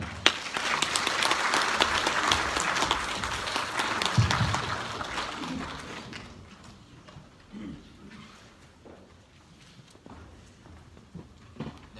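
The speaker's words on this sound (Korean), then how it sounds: "홍영일 박사님을 큰 박수로 모시겠습니다" Audience applause welcoming a speaker to an education lecture, loud and full for about seven seconds, then thinning and dying away into scattered claps and quiet room shuffling.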